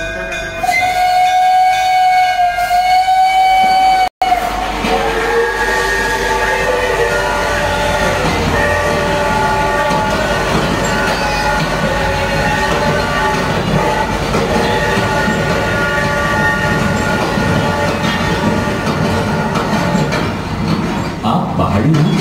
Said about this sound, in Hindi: पहाड़ी पर जाने के लिए भाप के इंजन की रेल है जो इस पुराने स्टेशन से निकलेगी।